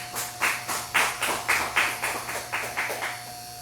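Congregation clapping in unison during a church service, a steady rhythmic beat of about three claps per second, close and fairly loud, with a low steady hum beneath and no talking.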